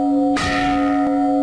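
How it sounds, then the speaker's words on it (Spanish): Church bells in the Sierra Norte de Puebla ring out loud and close. One bell strike rings on with a sustained metallic hum, and a second, lighter strike follows about a second later. "ese incesante tañido de campanas, las de la iglesia"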